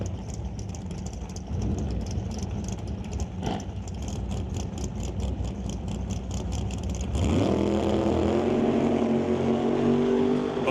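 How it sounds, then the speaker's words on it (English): A Chevrolet Cavalier and a 1969 Camaro launch side by side at an NHRA Northwest National Open Series drag race. Loud, rough engine roar builds, then shifts into a brighter, higher-pitched scream partway through as both cars pull away, with no talking. "Both cars away."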